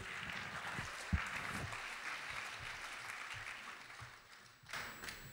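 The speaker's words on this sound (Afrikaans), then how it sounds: "Nog 'n lekker hande klap vir Dok." A church congregation applauds in a soft, diffuse wash of clapping that fades slightly and then swells again near the end, with a few low thumps underneath.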